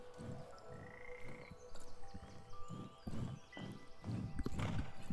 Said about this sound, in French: Il y a des grenouilles qui chantent, c'est parfait.